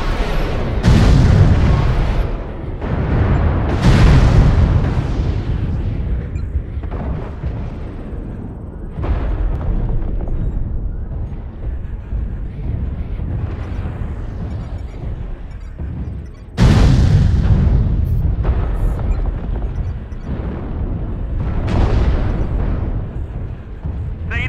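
Repeated heavy artillery strike explosions in a mech combat video game, a series of deep booming blasts with rumbling tails, loud and close, with a fresh strong impact partway through.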